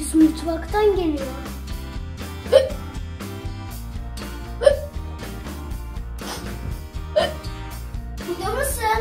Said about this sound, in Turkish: Bu hıçkırık sesi nereden geliyor?